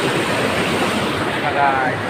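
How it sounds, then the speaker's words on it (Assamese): The Deigurung river near Golaghat rushes strongly, giving a dense, continuous roar of flowing water that stays loud and unbroken throughout. "এইফালৰ পৰা পানী পুৰা মজাকৈ আহি আছে"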